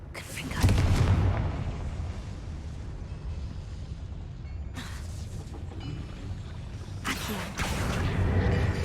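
Spell blasts from the Confringo fire spell in the Hogwarts Legacy game, with booming explosive bursts near the start and later in a sequence, over a rumbling game background, while a player speaks in between.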